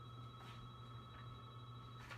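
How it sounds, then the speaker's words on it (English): A phone rings faintly in a quiet room, steady electronic tones repeating in short bursts over a constant low hum, distant and with no talk. "Oh, my phone's ringing."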